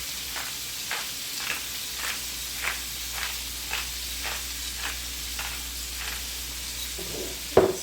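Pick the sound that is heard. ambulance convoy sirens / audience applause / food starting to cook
food starting to cook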